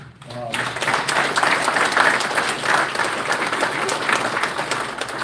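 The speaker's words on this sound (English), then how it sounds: "we really owe them a round of applause" A crowd at a dairy cattle breeders' annual meeting breaks into sustained applause, dense steady clapping that swells quickly and holds loud for several seconds, with some voices mixed in.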